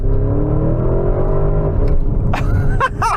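A Porsche Cayenne Turbo GT SUV drives and accelerates, a loud, close engine rumble rising in pitch, then rougher mechanical noise and a few sharp bursts near the end.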